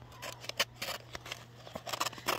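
Scissors making a rapid run of crisp snips while a bee colony is transferred between hives, each cut a short close shearing burst in an irregular rhythm over quiet background.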